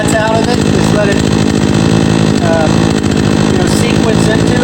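A Craftsman 18-inch 42cc chainsaw, 2019 model, runs steadily near the listener, its two-stroke engine holding a loud, even buzz with slight rises, alone without talk.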